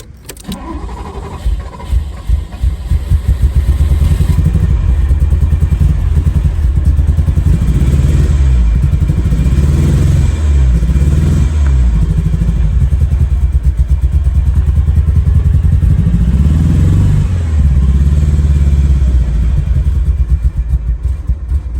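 Engine of a Ferrari 308 cranking with its old boards fitted, a loud continuous low rumble with rhythmic churning that swells and sags as the throttle is pressed, heard alone without talk.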